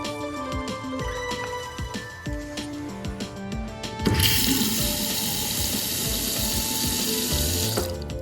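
Water gushes from a two-handle bathroom faucet, starting abruptly midway after some faint clicks and handling noises, then running steadily and loudly close by.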